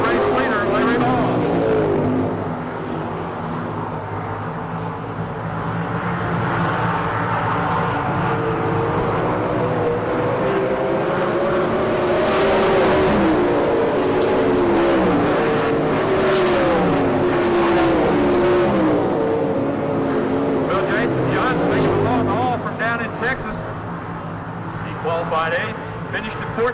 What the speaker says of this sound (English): Now he's challenging Larry Ball for the lead as they go 5-6 going into turn number 1.